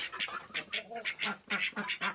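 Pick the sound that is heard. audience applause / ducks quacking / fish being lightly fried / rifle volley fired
ducks quacking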